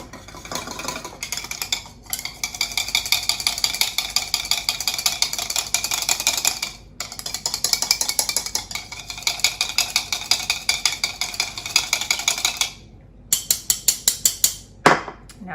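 A whisk beats an olive oil and lemon juice dressing in a bowl with fast, steady metallic rattling that runs almost nonstop. It breaks off briefly twice and ends in a few separate clinks.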